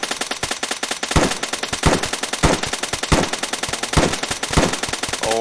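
Rapid automatic gunfire in a video game as a polar bear is shot, loud bursts of closely spaced shots in a steady rhythm, repeating for several seconds with short gaps and no talking.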